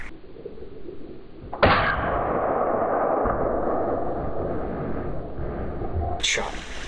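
A single loud shotgun blast during a deer hunt outdoors, a sharp boom that rings out and fades, with people talking quietly before and after.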